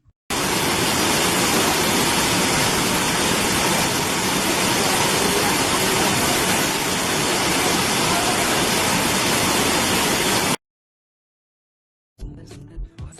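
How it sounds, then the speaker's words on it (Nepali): Phorle waterfall near Markhu and Kulekhani in Nepal, a dense, loud, unbroken roar of falling water that cuts off abruptly into silence before faint sounds return. "फोर्ले झरना।"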